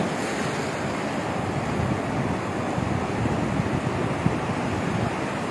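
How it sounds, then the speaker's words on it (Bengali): Big surf pounding Cox's Bazar beach on a rough, storm-whipped sea under a cyclone danger signal: a continuous, dense roar of breaking waves mixed with heavy wind buffeting the microphone, with no voices. "বিশাল ঢেউ আসতেছে দেখা যাক"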